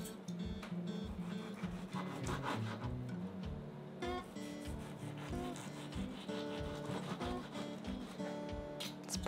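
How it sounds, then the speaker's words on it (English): A knife draws repeatedly through a venison loin cooked medium rare, cutting it into thin slices, giving a steady close run of rubbing, sawing strokes with no talk. "Slice, thin slices."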